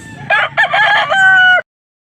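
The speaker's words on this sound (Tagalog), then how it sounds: "Ang dami mong manok." A rooster on a farm crows loudly and close by, one long drawn-out call with a few clucks mixed in, then silence.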